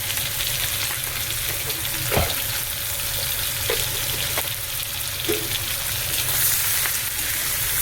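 Shrimp fry lightly in a pan with turmeric and salt, a close, continuous hissing sizzle with a few soft stirring knocks scattered through and no talking.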